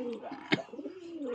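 Pigeons coo with low rolling throaty calls at close range, broken by a sharp flap-like burst midway, as the birds fight just outside a home.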